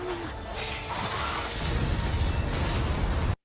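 A bomb explodes on a stage in a Filipino TV drama, a loud sustained blast with crashing debris and roaring rumble that builds and holds for about three seconds before cutting off.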